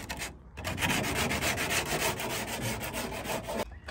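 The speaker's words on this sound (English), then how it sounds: "Just sanding down all the sharp edges." Sanding block rubbing along sharp bare metal edges of a window cutout in a DIY Sprinter van, a close, steady rasping scrub with rhythmic strokes lasting about three seconds, with no talking.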